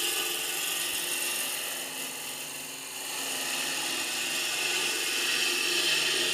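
A wood lathe turns a bowl down to its final 135 mm diameter with a continuous, loud, high whirring whine and the scrape of the cutting tool on the spinning wood, dipping slightly midway.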